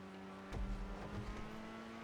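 In the GTA video game, a Grotti Itali RSX car's engine hums faintly and steadily under braking, with a brief low thump partway through the short, quiet moment.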